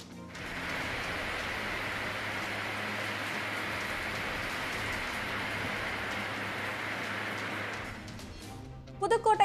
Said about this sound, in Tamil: நெல்லை, தூத்துக்குடி மாவட்டங்களில் வெளுத்து வாங்கிய கனமழை